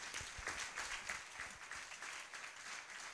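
A church congregation applauding in acclaim of the Lord Jesus, a soft, continuous patter of many hands clapping from a distance, with faint voices mixed in.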